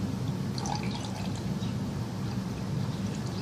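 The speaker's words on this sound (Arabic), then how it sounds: "راح احط لها عصير البرتقال" Orange juice poured into a cup, a steady close liquid trickle and splash running continuously under a low room hum.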